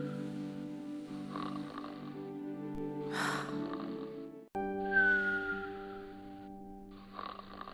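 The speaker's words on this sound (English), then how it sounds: "And he's snoring again." A man asleep on his back snores in two long, rasping cycles, each swelling in loudness before a brief pause, heard close with no talking.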